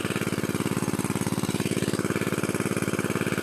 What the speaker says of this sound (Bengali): তো মেশিন বন্ধ করেছি